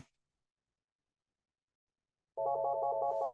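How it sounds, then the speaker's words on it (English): A telephone rings during an online Lushootseed language lesson: after nearly two seconds of silence, one electronic warbling ring trill starts abruptly and runs for about a second before cutting off. "Just ignore the phone ringing."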